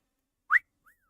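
One short, bright whistle sounds up close, followed by a faint, brief sliding whistle against silence.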